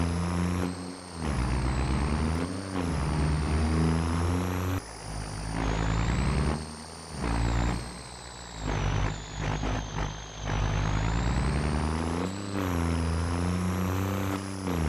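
A 2024 Dodge Ram 3500 diesel truck in Farming Simulator 25, its engine droning loud and close while it rises and falls through repeated rev swells and gear changes, with brief hissing lulls between pulls.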